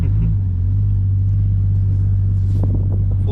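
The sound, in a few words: Nissan Skyline R34 M-Spec Nur engine rumbling while driving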